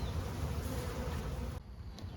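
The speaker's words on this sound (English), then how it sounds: "That is an impressive pile of bees." A swarm of honeybees sealed in a cardboard box gives off a dense, steady buzzing hum that stays close and constant throughout, with no voices.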